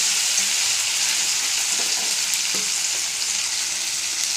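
Ginger and green chili paste frying in a pan, a loud, steady hiss of sizzling oil with faint stirring clinks underneath, close and continuous with no talking.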